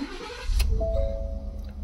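A Ford F150 pickup's engine cranks and catches, a short burst of starter noise settling into a low idle, close by, with a faint electronic tone after the start and no talk.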